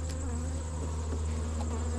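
Honey bees buzz steadily and close at an opened hive, a constant droning hum with no pauses and no voices.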